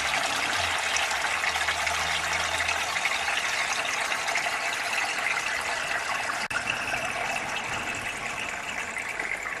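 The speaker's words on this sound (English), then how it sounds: "I fill the first tub." Pumped water pours steadily into a koi pond filter tub, a continuous gushing, splashing wash that holds even and fairly loud throughout with no talk over it.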